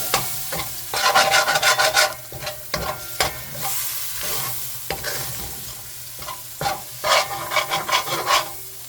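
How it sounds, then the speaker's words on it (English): Guyanese-style curry powder frying in oil in a pan, stirred with a wooden spoon: loud scraping strokes in bursts over a steady sizzle, up close, with no talking. "You want the curry powder to fry."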